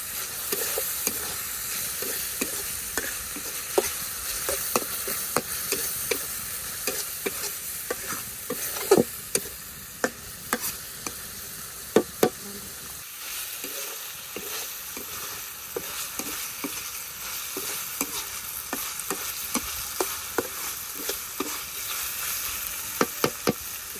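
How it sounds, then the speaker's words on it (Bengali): Food sizzles and crackles steadily in hot oil, with frequent sharp pops and occasional scraping stirs, no voices, sustained throughout. "সবকিছু ভালোভাবে ভেজে নেই"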